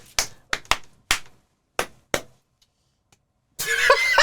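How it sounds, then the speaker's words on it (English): Quiet, half-hearted clapping in a small podcast studio: about six isolated, sharp claps with uneven gaps between them, then a voice starts talking. "It's the quiet clap at the back."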